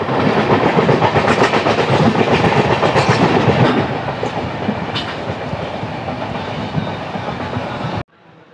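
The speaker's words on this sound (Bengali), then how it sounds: "সামনে থেকে আমাদের ট্রেন ক্রস করছে হাওড়া পুনে" A Howrah–Pune express rushes past close by, heard from aboard another train: a loud, dense roar of wheels and rattling carriages with rapid clickety-clack, easing slightly midway before cutting off abruptly.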